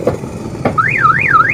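A car alarm on a Transformer van wails loudly and close, a rising and falling siren that starts after a couple of short clicks and keeps sweeping steadily to the end.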